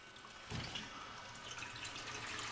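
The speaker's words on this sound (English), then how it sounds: "She wants to turn the water on" Water from a tap controlled by a Surestop i-water push-button gushes steadily with a soft splashing hiss, fairly quiet and close, starting up about half a second in and running without interruption.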